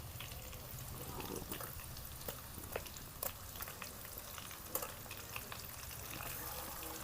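Chicken frying in onion paste in a pan for a village-style kaju chicken curry, a quiet steady sizzle with scattered scraping clicks from stirring.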